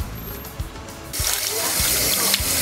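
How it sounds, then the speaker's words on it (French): Tap water runs steadily into a sink while cut coconut pieces are rinsed, with soft clunks of handling underneath and the flow growing louder and brighter partway through. "bien rincer, bien nettoyer"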